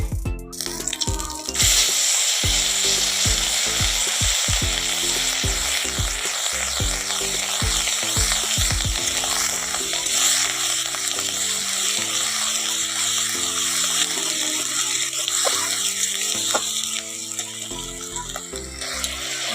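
A steady sizzle of onion, tomato and spices frying in a pan, loud and continuous, with a plucked-string music track running underneath and no talking.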